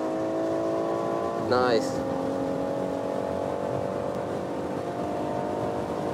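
A BMW M140i driving flat out on a track day in torrential rain with DSC off, its engine holding a loud, steady drone throughout; a voice comments briefly over it.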